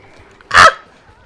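A chicken in the Sly Cooper and the Thievius Raccoonus HD video game lets out one short, loud squawk, alone against quiet game background.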